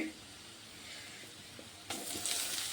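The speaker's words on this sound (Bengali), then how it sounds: "এখন আমি আদা বাটা, পেঁয়াজ বাটা, রসুন বাটাগুলো দিয়ে দিচ্ছি একসাথে" Ginger, onion and garlic pastes hit a hot frying pan with a faint sizzle and soft scraping, and a brighter burst of frying noise comes near the end.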